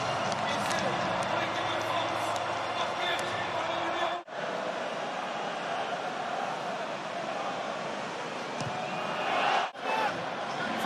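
Big French rugby crowd roaring during a France v New Zealand Autumn Nations Series match, a dense sustained stadium din with a commentator talking over it and two brief dips in the noise.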